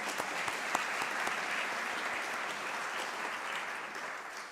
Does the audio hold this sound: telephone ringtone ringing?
no